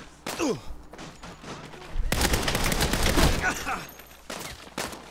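AK rifle gunfire in Saints Row erupts into a dense, loud sustained burst partway through, preceded and followed by scattered single shots and game effects, with brief voice sounds mixed in.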